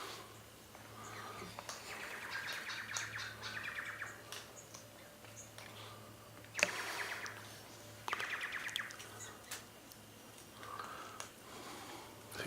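Wild birds at Loch Sport give scattered high chirps and tweets, fairly faint and distant, over a quiet outdoor background with a low steady hum.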